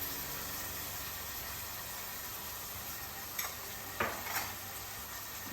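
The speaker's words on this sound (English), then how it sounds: "Give that a good stir." Onions, fire roasted tomatoes and smoked paprika stirred in a pan, giving a steady low sizzle throughout with a couple of brief scraping clinks of the spoon against the pan near the end.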